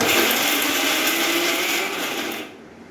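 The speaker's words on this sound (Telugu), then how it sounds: "ఇప్పుడు మళ్ళీ ఒకసారి గ్రైండ్ చేస్తాను" A mixer grinder coarsely grinds beetroot pachadi, a loud steady whir that runs alone for about two and a half seconds, then drops in level as the motor winds down near the end.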